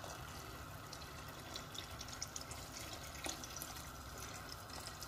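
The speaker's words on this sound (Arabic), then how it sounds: "غنزيد الماء، نضيف الماء على حسب عدد الاشخاص المتواجدين بالبيت" Water pours into a pressure cooker pot for Moroccan harira soup, a steady close splashing rush of liquid that continues for several seconds without speech.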